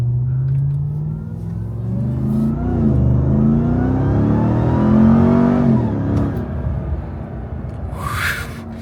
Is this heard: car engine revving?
yes